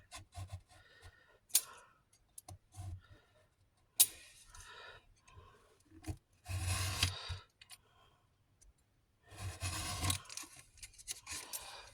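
Small scissors cutting paper for a handmade mini album, with short snipping and rasping strokes in bursts separated by quiet pauses, close and quiet.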